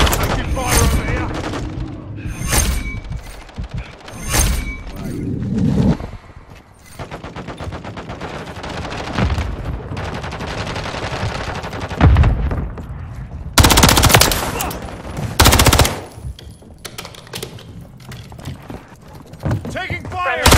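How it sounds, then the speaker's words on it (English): Rapid automatic gunfire and sharp shots in Call of Duty: Modern Warfare 3 multiplayer team deathmatch, loud bursts coming and going among explosions and game noise, with radio voices calling out over the action. "Taking fire!"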